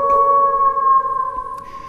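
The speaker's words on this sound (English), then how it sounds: "at any time that we hear the wolf howl" A short wolf howl sound effect marks breaking news on a League of Legends esports show: a single loud, sustained tonal wail, close and clean, that fades away within two seconds.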